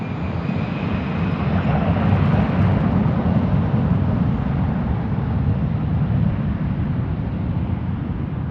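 Boeing 777 airliners on the move at Frankfurt Airport: a loud, continuous jet engine roar, broad and rumbling, holding steady throughout with no talking.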